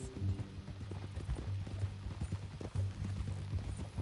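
Horse hooves clip-clop steadily in the Western video game Red Dead Redemption, a close, even gait that keeps going across the whole stretch over a low rumbling background.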